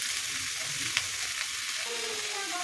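Chopped garlic, chilli, tomato and onion fry in a pan, a steady close sizzle with a few faint stirring clicks.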